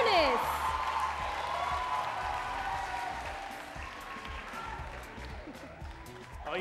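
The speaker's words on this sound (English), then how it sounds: "let's also make some big noise for our contestants on probation" An audience at the Tusker Project Fame Season 5 eviction-night show roars with sustained applause, whoops and cheers for the contestants, a dense, loud wash of crowd noise with a voice speaking over it.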